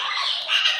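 A pet parrot lets out a single short, raspy squawk, harsh and noisy, close by and fairly loud, lasting under a second with no talking over it.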